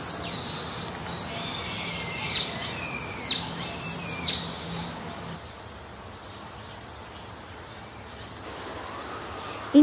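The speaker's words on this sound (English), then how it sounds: "you can hear these beautiful sounds of the birds" Several birds calling and chirping on a forest trail to Minoh Waterfalls, Osaka, moderately close, over a soft background hush; no talking.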